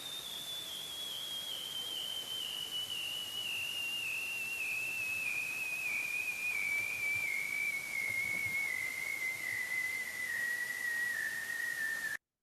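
A recorded animal gives a long trill call, a sustained high, whistle-like tone that slowly glides downward while wavering slightly up and down. It plays alone over a constant background hiss for about twelve seconds.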